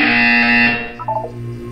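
A loud, flat electronic buzzer from the video game Portal 2 sounds alone for under a second, then cuts off, leaving a faint hum and a brief tonal blip.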